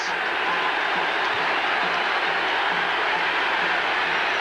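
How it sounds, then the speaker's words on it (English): Crowd chanting at a 1979 NFL game between the Oakland Raiders and the New Orleans Saints, a dense roar from a packed football stadium with a rhythmic, repeated chant pulsing through a steady wash of noise. "Crowd chanting."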